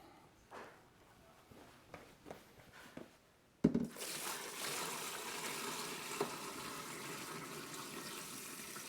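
Brine gushes into a cooler over alligator meat after a few soft knocks and handling sounds, then pours in a steady, close, splashing stream that continues to the end.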